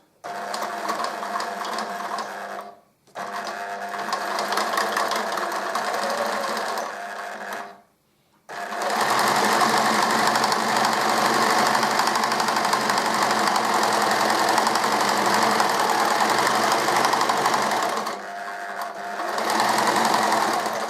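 A sewing machine stitches a straight seam, starting with a lock stitch, in a loud, fast, steady mechanical whir, running in bursts with two brief stops early on, then one long run and a final short burst.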